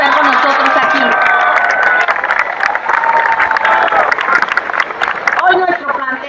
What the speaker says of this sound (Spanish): Pido a la concurrencia un gran aplauso